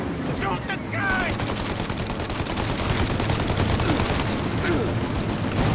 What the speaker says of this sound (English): Now! Shoot the gun!